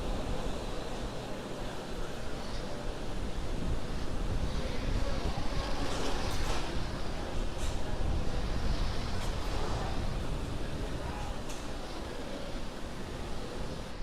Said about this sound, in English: The 9 Merlin 1D engines going back to full power.